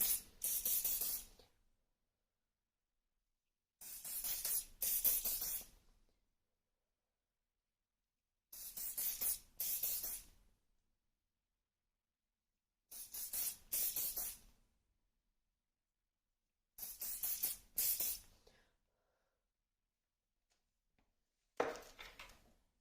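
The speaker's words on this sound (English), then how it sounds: "So what you're going to do is hairspray both sides, the top and the bottom" Hairspray hisses out in six separate bursts of a second or two each, close and crisp, with silent gaps between them as both sides of a plait are sprayed.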